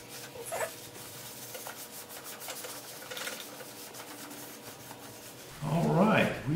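Paper towels wipe white glaze off golden oak in a cerusing finish, producing soft, intermittent rubbing and scraping strokes close by, with a louder burst of handling noise near the end.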